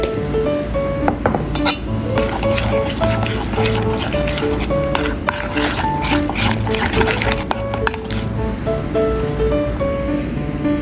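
Seaweed meatball mixture being mixed in a bowl, with repeated clinks and scrapes of a utensil against the bowl and wet squishing of the meat blend, steady and close throughout.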